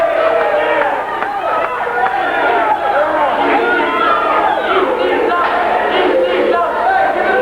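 A wrestling crowd roars and cheers nonstop in an arena during a brawl, a dense, loud wall of shouting voices and excited yelling.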